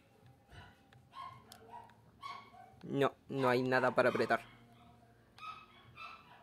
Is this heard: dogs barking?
yes